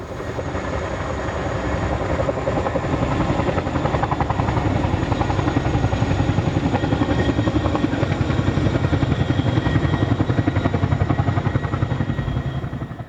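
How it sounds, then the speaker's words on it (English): A CH-47 Chinook tandem rotor helicopter roars loudly and steadily, its twin rotors producing a fast, continuous chopping pulse that swells slightly and then fades, with no voices. "The distinctive sound of the Chinook helicopter"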